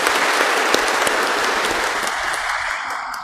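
Church congregation at a Catholic cathedral Mass applauding steadily, a dense wash of clapping hands that fills the space throughout, loud and close, with no talk over it.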